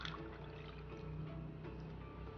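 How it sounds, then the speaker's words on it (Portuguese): Warm water pours steadily from a cup into a bowl for whole wheat bread dough, a continuous soft close trickle and splash with no talking. "Vamos colocar 2 xícaras aqui de água."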